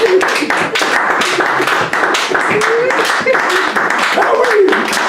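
A church congregation claps hands together in steady, dense applause throughout, loud and close, with a preacher's voice and crowd voices woven through the clapping.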